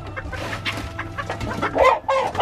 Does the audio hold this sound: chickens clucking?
yes